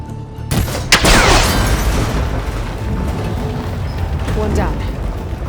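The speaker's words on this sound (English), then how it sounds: "That connector's holding the cables together. It should break if I shoot it." A shot hits and snaps a cable connector on a rickety ancient tower in Horizon Forbidden West, giving a loud booming crack with a metallic sweep. Rumbling noise and a second fainter sweeping clatter follow.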